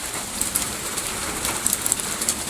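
Steady rain pours down outdoors in a dense, even hiss, with occasional sharper drops spattering nearby and no voices.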